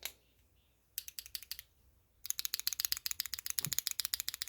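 An Akko Crystal Wine Red mechanical keyboard switch being clicked: a short burst of rapid, crisp clacks, a pause, then a longer run of fast, sharp keystrokes close to the mic.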